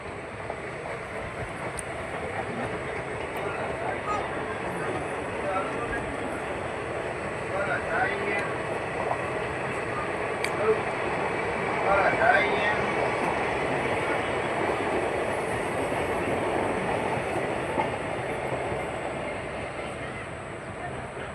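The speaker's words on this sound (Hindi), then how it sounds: "ये क्रॉसिंग हो रहा है, पता नहीं किस ट्रेन का।" A train passes on the adjacent crossing track beside a stationary Bhuj to Rajkot special train, a steady broadband rumble and clatter of wagons rolling by at moderate distance for about twenty seconds, swelling slightly midway.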